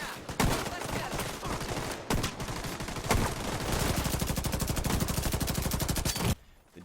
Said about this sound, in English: The depth of sounds from weapons and explosions adds to the intensity of firefights